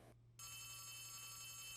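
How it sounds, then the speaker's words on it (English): Phone ringing in a horror video game: a brief electronic telephone ring starting after a short gap, a steady, faint, buzzy tone that holds to the end. "The phone. The phone is ringing."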